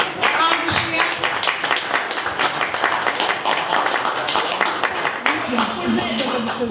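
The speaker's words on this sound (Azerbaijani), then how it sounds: "Alqışlayaq." An audience applauds at an award ceremony honouring a World Food Prize laureate, a dense, steady patter of many hands clapping that is sustained throughout at a fairly loud level.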